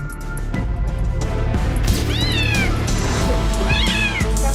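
Kitten stuck in a washing machine crying loudly, two distinct rising-falling meows about two seconds apart, close and piercing over a clattering background with a few knocks.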